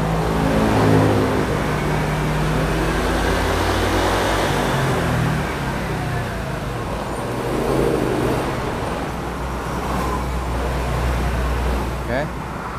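A Honda Vario scooter with a faulty speedometer revs on its stand, a steady engine drone that swells and eases over several seconds, close and fairly loud with no talk over it.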